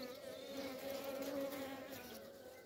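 Honeybees swarming around beehives, a dense continuous buzz with a steady hum, close and even throughout with no voices.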